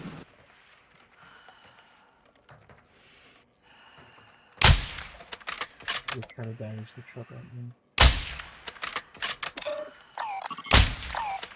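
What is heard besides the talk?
gunfire in Call of Duty DMZ video game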